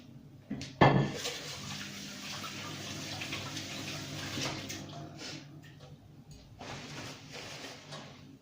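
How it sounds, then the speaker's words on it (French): A tap runs steadily in a kitchen while hands are washed after preparing pigeons, opening with a loud splash, then a continuous medium-level rush of water with small shifts. "je vais me laver les mains"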